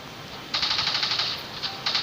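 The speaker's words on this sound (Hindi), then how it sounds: "तो यहाँ पर फायरिंग शुरू हो चुकी है।" Rapid gunfire in a Pakistan Army shooting video game, a burst of repeated shots starting after a brief pause, running steadily for over a second with a short break before another burst, fairly quiet and without talk.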